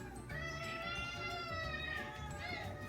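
Cats at feeding time in a home with a diabetic cat, giving drawn-out, rising and falling meows over a steady background hum and low talk.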